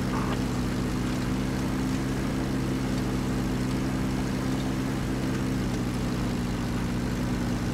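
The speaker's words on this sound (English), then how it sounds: "Chopper." Helicopter in a video game battle flying overhead, a steady low droning engine and rotor hum that stays constant and fairly loud throughout, with no talk.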